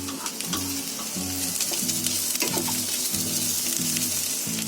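Onion and cashews frying in a pan, a bright continuous sizzle punctuated by a regular rhythm of spoon or spatula scrapes as they are stirred, close and loud with no voices.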